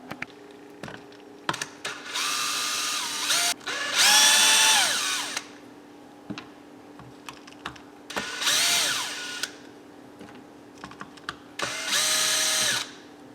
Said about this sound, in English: The only thing left holding that on are the screws on the bottom. We'll go ahead and take those out.